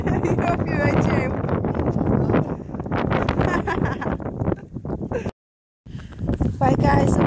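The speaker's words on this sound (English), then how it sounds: "It's still quite windy today, so I do apologize for the noise." Wind buffets the microphone in loud, rough gusts, with voices heard faintly beneath the rumble and a brief cut to silence.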